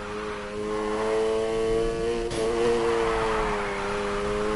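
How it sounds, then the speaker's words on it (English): A car engine revs hard while accelerating into a drift, a loud, steady, close-up drone with rising and falling harmonic pitch, one brief sharp click partway through, and no voices. "Slam on the gas and steer."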